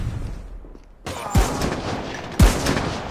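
An XPR-50 sniper rifle in COD Mobile fires two heavy booming shots about a second apart over a constant layer of game noise and ambient crackle.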